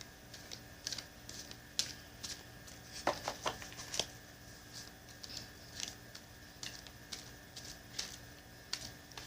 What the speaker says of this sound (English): I'm going to shuffle the Crystal Mandala Oracle deck